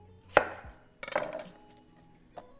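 A knife quarters carrots, celery and onion on a cutting board, giving two crisp chopping thunks followed by a short scraping crunch and a final lighter tap, close and otherwise quiet.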